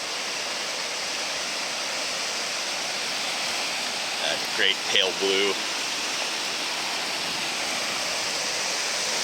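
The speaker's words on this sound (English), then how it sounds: "Oh wow, this is such a beautiful river." Rushing water of the Little Elbow River, a steady broadband roar close by, with a brief spoken phrase partway through.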